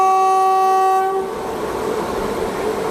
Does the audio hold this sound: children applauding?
no